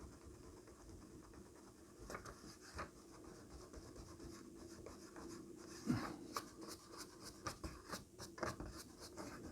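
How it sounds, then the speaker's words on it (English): Pencil marks being rubbed out of the page of a vintage Penguin paperback, faint close-up scratchy back-and-forth strokes that quicken toward the end, with no talking. "so I'm going to carefully rub that out if I can. Yeah, it's pencil."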